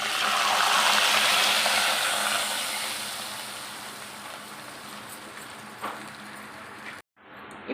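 Packet milk pours steadily into a pan for semiya, a broad watery splashing rush that is loud at first and gradually softens before cutting off near the end.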